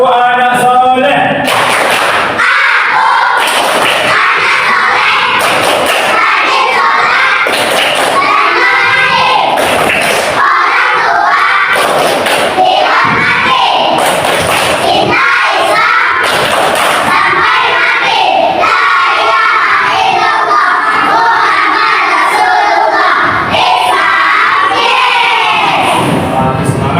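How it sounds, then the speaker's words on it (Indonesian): Classroom of Indonesian children performing the 'tepuk anak soleh' clapping chant, loud rhythmic group claps punctuating chanted and shouted words, with repeated sharp bursts of clapping and voices close by. "Tepuk anak soleh."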